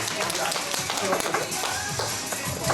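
A fan-event audience claps in celebration, with dense, sustained applause throughout and voices talking over it.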